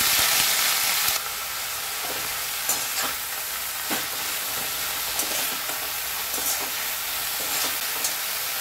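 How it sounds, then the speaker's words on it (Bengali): Whole garlic cloves fry with mustard greens in a pan, a bright hiss that starts loud then settles into a steady sizzle, broken by several scraping strokes of a spatula stirring, no one talking. "এরপর গোটা রসুন দিয়ে দিলাম। এগুলোকে একটু ভাজবো, খুব বেশি ভাজবো না।"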